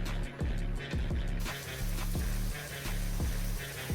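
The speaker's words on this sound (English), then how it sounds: "once this ground beef browns and cooks all the way" Ground beef browning in a pot on the stove, a steady close sizzle and crackle of frying meat with rhythmic scraping knocks from stirring, no talking.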